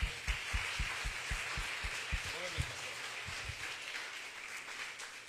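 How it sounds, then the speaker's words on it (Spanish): A church congregation applauds in a broad, even patter of clapping, heard at moderate distance beneath regular low thumps from a drum or bass beat. "Den un aplauso al Señor por eso."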